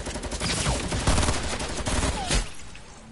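Sniper rifle gunfire in a video game, dense loud bursts of shots packed together over about three seconds, fading at the end.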